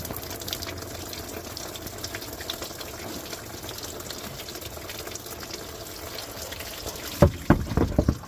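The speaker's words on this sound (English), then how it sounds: "now I'm gonna open the cap on the top of the radiator to increase the flow of the coolant" Coolant drains from the radiator petcock of a Kia Sedona (2015–2021) during a coolant change, a faint steady trickle that gives way to a few louder splashes near the end.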